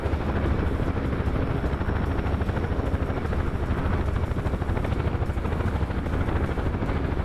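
UH-1 helicopter flying in a VR combat game, a continuous dense rotor and turbine roar with a fast rhythmic beat, steady and loud throughout with no voices.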